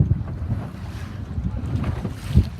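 Strong wind buffets the microphone during a C420 dinghy sailboat race regatta, giving a continuous low roar with gusty swells and some water slosh. No voices are heard.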